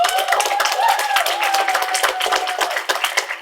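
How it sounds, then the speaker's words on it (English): Audience at a high school poetry slam clapping steadily in a dense, sustained round of applause, with some cheering tones woven through and no pause across the short stretch. "what I want to also do is give a big round of applause to Miss Sullivan in the back."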